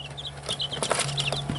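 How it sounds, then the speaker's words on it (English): Newly hatched turkey poults and chickens peep and cluck in an incubator, with high, repeated chirps scattered over a steady low hum, close and moderately loud. "here I have turkeys and chickens that have hatched that have to go into the outside brooder"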